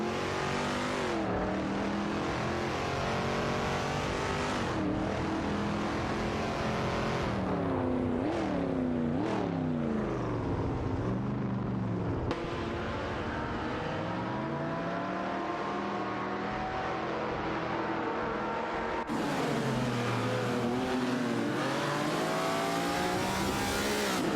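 Race cars in a racing video game roar down the straight, engines droning loudly and continuously with rising and falling pitch sweeps as they accelerate, shift and pass, with no talking over them.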